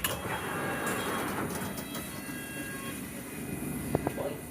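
London Underground Circle Line train running between Hammersmith and Edgware Road, heard from inside as a loud, steady rumble with faint clicks and rattles throughout.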